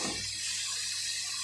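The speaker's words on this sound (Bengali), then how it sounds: "জল দিয়ে দেব," Hot water poured into a pan of chicken being cooked, a steady close hiss and splash of liquid running for a second and a half, alone without talk.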